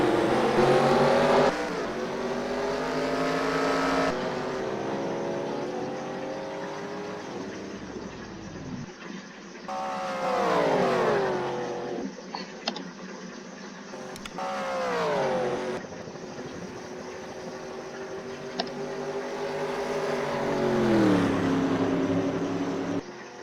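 Stock cars racing in a NASCAR Xbox video game at Daytona, engines roaring loud and continuous, with pitch sweeps as cars pass by in repeated waves, with no talk.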